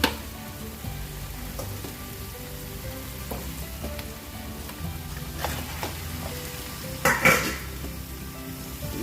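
Pork ribs sizzling in a pan of softened frying tomatoes, a steady low crackle with occasional clinks and scrapes of a utensil, one louder clatter near the end.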